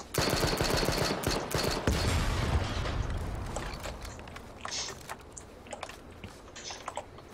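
Rapid bursts of gunfire from cars in a video game, dense and loud at first with clustered shots, then thinning into scattered pops and fainter bangs over a low rumble.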